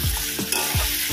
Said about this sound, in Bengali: আমি দেব আদা রসুনের পেস্ট। আদা রসুনটা যতক্ষণ না কাঁচা গন্ধ যাচ্ছে ততক্ষণ পর্যন্ত ভেজে নেব।